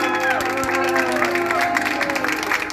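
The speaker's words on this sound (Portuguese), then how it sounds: "Pode bater palmas que o nosso homenageado merece" A small gathering applauds and cheers for a husband's birthday celebration, steady clapping with scattered voices over background music, close and continuous throughout.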